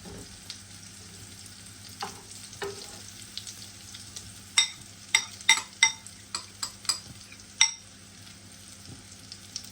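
Steady low sizzle of chopped meat cutlets frying in a pan, broken by a run of sharp clinks and scrapes in the middle, with no talking.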